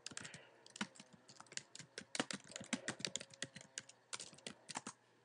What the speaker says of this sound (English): Go in the search box and type their name.